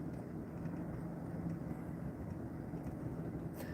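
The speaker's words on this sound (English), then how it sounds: "No, that's a medevac." A medevac helicopter passing overhead during a police patrol, heard as a steady, moderately faint low drone of motor and rotor wash that holds constant throughout with no voices.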